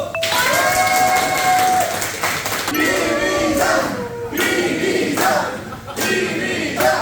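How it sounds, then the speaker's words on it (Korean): A workshop crowd at a company event cheers and claps loudly in sustained bursts, with shouts rising over the noise throughout. "박수!"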